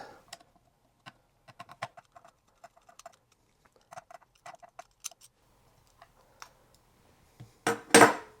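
Small screws are backed out of a Telecaster guitar pickup with a screwdriver, giving sparse light metallic clicks and ticks at close range, ending in a short louder rattle.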